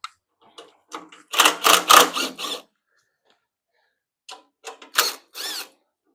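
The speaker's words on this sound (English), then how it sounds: "I'm going to go ahead and just remove this 13mm bolt" A hand ratchet loosens a 13mm bolt on a 25-inch California Trimmer Catalyst reel mower verticut, heard close up as two separate bursts of rapid, sharp clicking with short quiet pauses between them.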